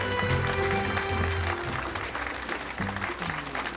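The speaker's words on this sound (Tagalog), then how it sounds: "Please join me in extending a warm round of applause to Ethiopia Business Consul David Ackerman." An audience applauds at a live business event, the clapping dense and sustained throughout with a lively crowd, while sustained low tones, probably music, play underneath.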